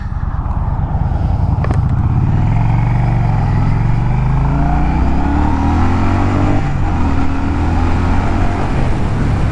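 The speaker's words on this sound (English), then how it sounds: "The transmission clicks through gears," A Yamaha V-Star 1100 motorcycle engine runs loud and close, its low rumble rising and falling steadily as the rider works through the gears, with no talking over it.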